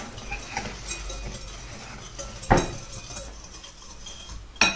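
Ingredients for hog nog stirred together in a pot, a few scraping stirs with a sharp clink of utensil on metal midway and another near the end, over a low background hum.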